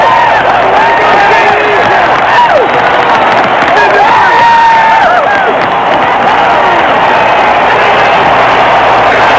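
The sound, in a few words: jubilant stadium crowd cheering at baseball All-Star Game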